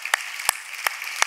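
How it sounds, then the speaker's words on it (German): An audience at a triathlon awards ceremony applauds in a few loud, separate claps spread across a brief moment, over a soft room wash. "ihr kriegt einen Applaus, denn ihr seid Helden unseres Sports"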